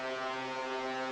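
White noise run fully wet through an Ableton resonator gives a sustained metallic ringing tone with stacked steady harmonics, holding evenly at constant loudness with no voice.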